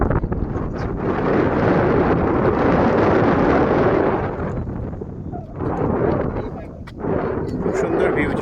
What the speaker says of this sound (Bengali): এখানে খুব হাওয়া দিচ্ছে